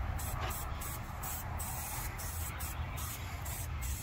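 A pearl clear coat from an auto parts store is sprayed onto a DIY guitar kit body, giving a steady, close hiss of broad noise with faint periodic pulsing and no talking.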